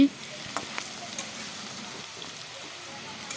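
Potatoes frying in a pan with salt and turmeric, a steady soft sizzle with faint crackles, even and continuous without talk.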